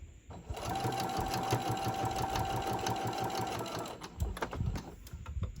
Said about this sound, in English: And I'm going to sew down to the end here.